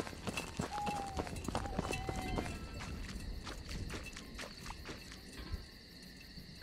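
Running footsteps in the horror game The Beast Inside, a quick, even series of steps with a hoof-like clop, fairly close, over a dark night ambience with a faint whistling tone early on.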